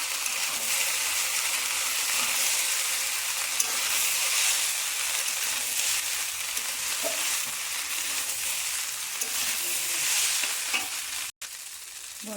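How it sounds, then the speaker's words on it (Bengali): Pasta sizzles and fries steadily in a hot wok (kadai) while being stirred, a continuous close hiss with occasional scraping clicks and a brief pause near the end. "পাস্তাটা ভালো করে নেড়ে দেবো।"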